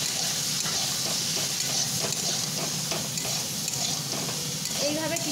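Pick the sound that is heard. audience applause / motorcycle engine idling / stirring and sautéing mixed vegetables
stirring and sautéing mixed vegetables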